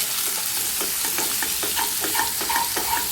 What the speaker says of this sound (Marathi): बघा चांगले कांदे लाल हो तोपर्यंत असे चांगले परतायचं